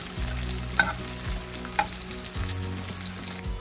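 Onions fry and brown in a pan with a loud, continuous sizzle and crackle, with a few sharp clacks of a utensil against the pan and a low hum underneath.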